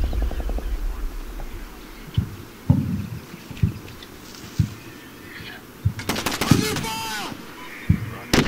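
Syrian infantry gunfire in the Combat Mission: Shock Force war game, with sharp isolated shots and short bursts at irregular intervals, some distant and some closer, ending in a dense loud volley over steady battlefield ambience.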